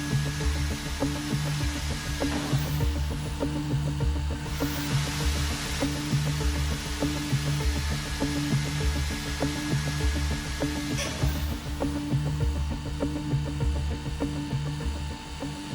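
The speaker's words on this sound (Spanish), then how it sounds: "el motor aguanta taladrar una pieza sin problemas" An electric drill bores holes in a piece of iron. A steady motor whine and hum runs unbroken for about sixteen seconds at a moderate level, with no talking.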